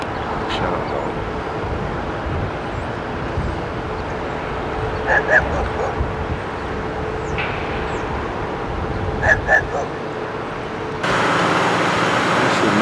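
A dog in New Orleans in 1992 barks in short separate pairs at mid-distance, over a constant hum of traffic and a passing vehicle.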